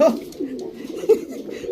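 Silver pigeons coo softly and repeatedly, close by, with low throaty murmurs that carry on through the whole stretch in a pigeon keeper's loft.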